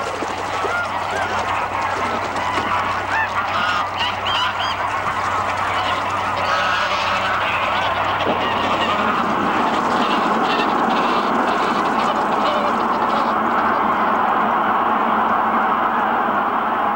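A large flock of geese honks continuously at a marshy lake in Ichkeul National Park, Tunisia, a dense overlapping chorus of calls mixed with softer duck-like quacks at moderate distance.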